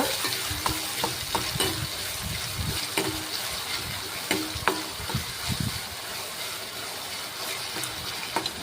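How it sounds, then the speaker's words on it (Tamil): Onions frying in hot oil in a kadai, a continuous close sizzle broken by frequent scraping stirs in an uneven rhythm, with no voices. "ஒரு கடாயில் ஆயில் ஊற்றிக்கோங்க ஆயில் சூடானோடனே வெங்காயம் போட்டு நல்லா வதக்கிக்கோங்க"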